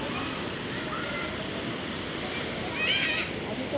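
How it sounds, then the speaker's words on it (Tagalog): Sea waves wash steadily along Boracay beach in the early afternoon, a continuous broad surf rush with a slight swell near the end, and faint voices of swimmers blending into the background. "Ang dagat sa Boracay."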